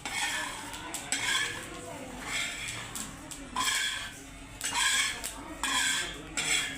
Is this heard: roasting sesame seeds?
yes